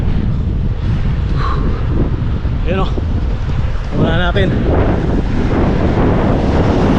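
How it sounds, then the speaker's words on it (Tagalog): Strong wind roars into the microphone during a gravel bike ride in Rizal and Laguna, a constant loud low rumble throughout, with riders talking briefly over it. "Malakas ang hangin dito."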